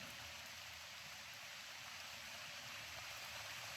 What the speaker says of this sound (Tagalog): Parang umuulan na gyud.